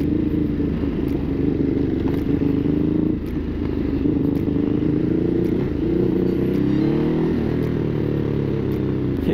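A 2016 Ducati Hypermotard 969 motorcycle riding along, its engine droning steadily with rising and falling revs and scattered sharp exhaust pops and crackles over wind rush.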